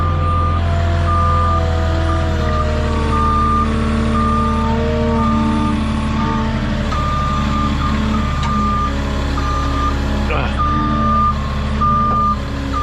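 A forklift backs up during a driveway delivery, its engine rumbling loudly and close while a reversing alarm beeps steadily and repeatedly over it, with a few clanks and a brief hiss partway through.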